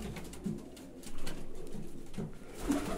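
Pigeons coo in a pigeon loft in a soft, low, rolling chorus of repeated calls that overlap at close range.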